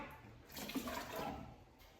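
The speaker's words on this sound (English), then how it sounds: "turn it for 1 second to let water enter" Water rushes into the tank of an X3 mop for about a second once a white dial is turned, a brief, close gurgling flow with no talking.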